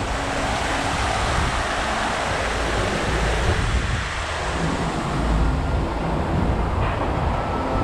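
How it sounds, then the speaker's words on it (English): Water flows steadily through a koi pond stream toward a dam wall, a dense continuous rush and splash that stays loud throughout with no voices. "here you see the current, and it takes you down to the dam wall"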